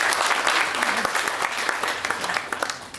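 Audience clapping at a company's 50th anniversary celebration, a dense, steady burst of applause from a room full of people, loud and sustained for the whole stretch, with a voice faintly audible beneath it.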